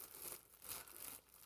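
A plastic bag wrapped around a paperback book crinkles and rustles faintly in a few short bursts of soft, papery crackling at close range.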